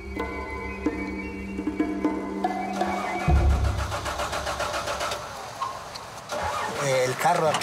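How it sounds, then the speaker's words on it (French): An old, stalled car engine cranks and fails to catch, sputtering unevenly, while people talk over it. "Sa voiture a calé. Elle ne démarre plus."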